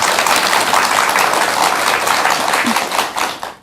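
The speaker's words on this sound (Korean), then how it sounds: "박수 한번 주시죠" A studio audience claps in a broad, dense burst of applause that stays loud and even throughout, then tapers off at the very end.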